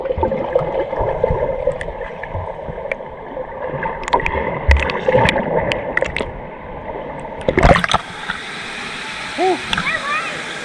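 Muffled underwater sounds in a hotel swimming pool, with low rumbling churn, bubbly bursts and splashy swirls, a sharper rush of bubbles near the end, and brief muffled voices.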